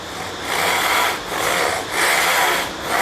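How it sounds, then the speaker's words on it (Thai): A Japanese push saw rasps through wood in long, even strokes, four rhythmic passes up close with brief pauses between them. "เลื่อยตัวนี้เป็นเลื่อยพุชนะครับก็คือใช้ดัน"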